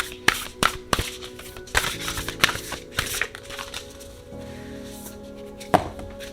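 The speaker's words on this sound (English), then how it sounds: "So let's shuffle." Oracle cards being shuffled for a reading, a run of sharp riffling taps and soft slaps at close range, irregular in rhythm with one louder snap near the end.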